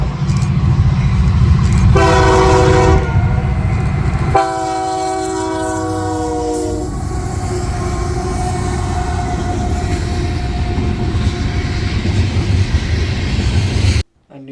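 CSX train B705 led by a CN SD75I locomotive with CN 3023, the Elgin, Joliet and Eastern heritage unit, sounds two loud horn blasts near at hand over a steady rumble of engines and rolling wagons that carries on to the end.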